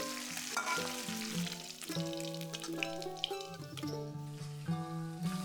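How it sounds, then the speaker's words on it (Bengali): Small mourala fish fry in hot oil in batches, a steady soft sizzle running beneath background music. "ভাগে ভাগে মাছগুলো ভাজবে।"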